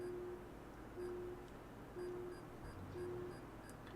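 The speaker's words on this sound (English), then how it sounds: "Oh, I can hear the beeping." In the video game Carrier Command 2, a low electronic beep repeats like a parking sensor, four short even tones about a second apart, steady and clear over a constant engine rumble.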